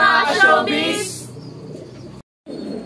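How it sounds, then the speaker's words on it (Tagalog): A racing pigeon, sibling of a first overall local ace pigeon, coos in a short burst close by, its soft throaty call fading into quiet with a brief dropout near the end. "Ito nga pala tong ibon na to, ito kapatid mismo to ng ng first overall local ace pigeon"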